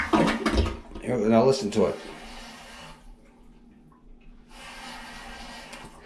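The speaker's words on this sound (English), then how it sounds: "listen to this, the way it flushes" A toilet flushing in an Aria Las Vegas hotel room, heard as a burst of rushing water after a person speaks, a short pause, then a second steady rush of water.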